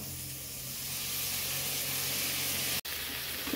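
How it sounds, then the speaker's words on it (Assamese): Vegetables being stir-fried in a pan give a quiet, even hissing sizzle that holds steady, broken by one very brief drop to near silence before resuming; no voices. "ভাজিখিনি অকণমান লৰাই দিওঁ"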